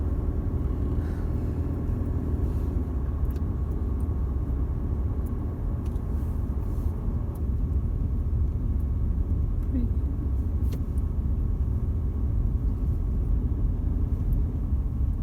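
A car drives along the sand of Cable Beach in Broome, with a steady, loud low engine and road rumble throughout and continuous wind noise.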